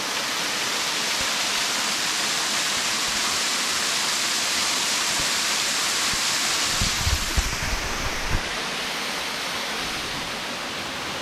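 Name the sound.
waterfall at Black Clough, Peak District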